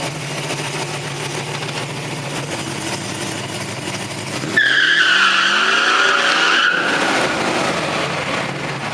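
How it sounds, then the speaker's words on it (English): A 1968 Chevy II Nova SS idles low and steady, then breaks into a loud, piercing tire squeal with the engine roaring for about two seconds before settling back to a rumbling idle. No one speaks. "think it's got enough to spin the tires"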